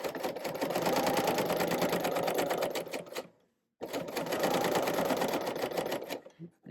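A serger sewing machine trims the edge of a placemat, running in two fast, rattling bursts of about three seconds each, separated by a brief pause, close and fairly loud.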